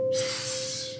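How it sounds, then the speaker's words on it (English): A voice makes a soft, steady hissing exhale, the 'sa' breath of a Hamsa breathing meditation, as one close breath lasting about a second. "And then on the exhale, it's sa, sa."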